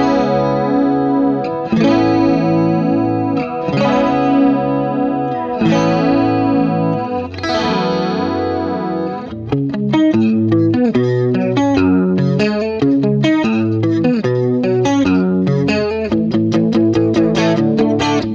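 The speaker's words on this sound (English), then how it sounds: "So very chorusy. It's very chorusy." An instrument played with a heavy chorus effect, shimmering and wide; sustained chords give way to a quicker run of plucked notes, loud and steady.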